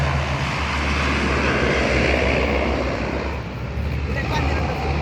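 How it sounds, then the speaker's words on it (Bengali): Overhead, a fire service plane sent to a blaze to collect water drones steadily and loudly, easing slightly toward the end, while voices talk beneath the engine roar. "ওই ফায়ার সার্ভিসের প্লেন দেয়, এই লেগে পানি নিয়ে"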